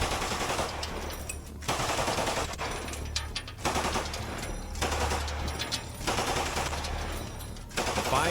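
An MG3 machine gun fires a full belt in combat in Ukraine, loud sustained bursts of rapid automatic fire split by brief pauses, near and harsh, without speech.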